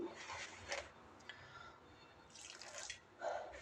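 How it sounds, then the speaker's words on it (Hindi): A little water trickles and drips into chilled cream while making homemade butter, heard as a few faint, wet splashes and drips separated by quiet gaps. "थोड़ा सा हम डाल देंगे इसके अंदर पानी।"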